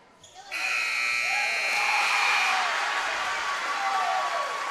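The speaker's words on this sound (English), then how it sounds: "I think it was after the buzzer." A high school varsity basketball game buzzer, Lincoln versus Butler, blares loud and sustained for over four seconds in a gym, with ringing echoes and crowd noise around it.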